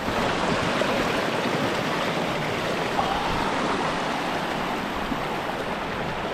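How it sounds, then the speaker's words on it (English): A steady, full rush of a mountain stream near Ben Macdui fills the scene without pause, broadband and close, with no voices. "Get some water from the stream."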